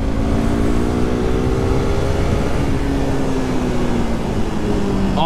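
A KTM RC 390 motorcycle on a long highway ride gives a steady engine drone, heard from the rider's position under constant loud wind rush, with no talk.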